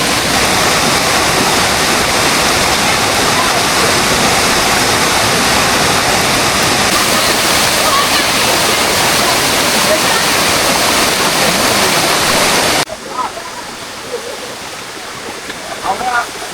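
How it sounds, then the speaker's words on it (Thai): Khlong Kratha waterfall in Thailand roars as a loud, steady rush of falling water for most of the stretch, then drops abruptly to a quieter wash of flowing water near the end. "น้ำตกคลองกระทะ"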